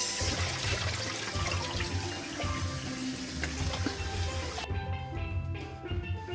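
Tap water runs steadily over a whole turkey being rinsed for Jamaican-style jerk. The hiss of the stream is close and constant, its brightness dropping partway through, with no talking.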